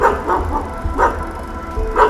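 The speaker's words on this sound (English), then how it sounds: "The only sign that something could have been amiss was that DeFeo family dog continuously barking." A dog barks repeatedly in short, sharp bursts at an uneven pace, close and loud, with brief pauses between barks.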